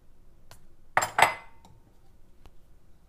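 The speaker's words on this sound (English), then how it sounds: "you're just going to stir this until it's all incorporated" A utensil clanks twice against a pot while tomato jam ingredients and sugar are stirred, with faint clinks before and after, close and otherwise quiet.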